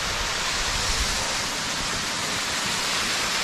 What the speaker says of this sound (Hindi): ये आ रहा ऊपर से पानी